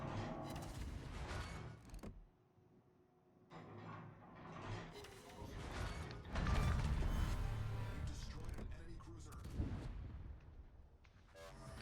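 Heavy warship naval guns firing in World of Warships, the Tulsa cruiser, booming in loud repeated salvos with rumbling blasts and mechanical clatter, a dense battle soundscape with a brief quieter lull.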